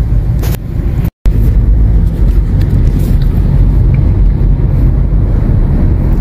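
A car drives along a smooth, shaded uphill road, its steady engine and road rumble loud and continuous with wind buffeting the microphone, broken only by a brief dropout.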